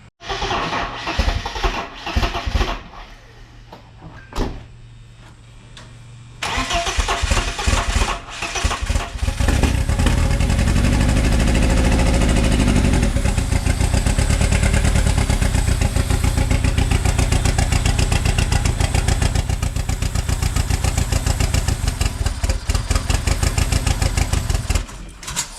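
A turbocharged BMW M44 four-cylinder in an E36 cranks and catches, then settles into a loud, steady, slightly rough idle up close, after a few seconds of quieter ambient noise.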